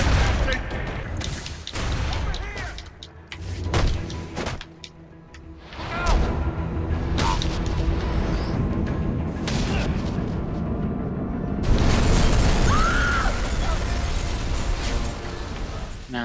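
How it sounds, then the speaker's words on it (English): Oil truck exploding on a bridge in Batman Arkham Origins, with a series of heavy booms and blasts in sharp bursts followed by a sustained loud rumbling roar. "Source of explosion was an oil truck on the bridge surface."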